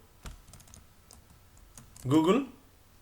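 Fingers tap out a few clicks on a computer keyboard, light and sparse near the start, followed by a short spoken phrase over a quiet room.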